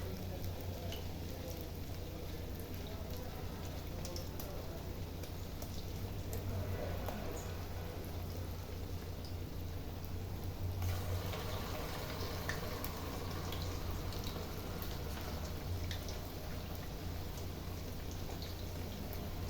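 Murungai keerai (drumstick leaf) vada frying in hot oil gives off a steady, close sizzle that continues evenly throughout with no talk.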